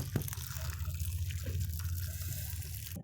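Boiled mustard greens for sarson saag sit in a basket as water drains from them in a steady, close trickle with a few drips, stopping abruptly at the end.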